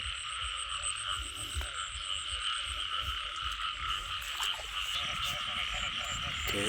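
Frogs croak steadily in a dense, faint chorus at a pond at night, a continuous pulsing drone under occasional rustling.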